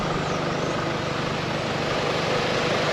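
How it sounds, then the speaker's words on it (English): A steady, low truck engine rumble runs throughout on a rainy road in Las Cuevas, Trinidad, with constant broadband noise and no talking. "You can hear the noise of that truck engine"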